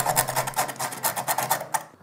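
A small saw rasps back and forth through metal handcuffs in quick, steady strokes, a close, scratchy filing sound that cuts off abruptly at the end.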